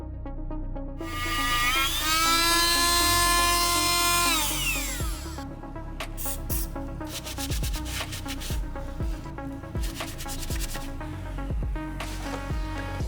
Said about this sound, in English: then I moved to a Dremel tool with a brass bristle head